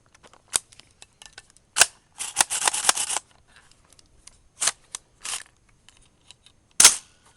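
Adams Arms piston-driven AR-15 rifle firing, with a single sharp crack, a quick burst of rapid shots, then several more isolated shots spaced irregularly, close and loud with quiet gaps between.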